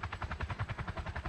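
A helicopter in the Roblox game Polybattle gives off a steady, rapid rotor chop with evenly spaced thumping pulses, heard quietly and alone with no talk over it.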